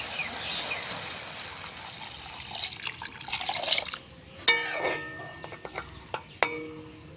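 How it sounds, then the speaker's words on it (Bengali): Water poured into a pan of jute leaf curry with prawns, a soft steady trickle building, then sharper splashes and drips near the end. "এখন ঝোলের জন্য জল দিয়ে দেবো।"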